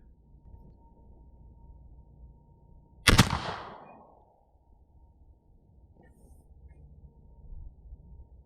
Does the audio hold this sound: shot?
yes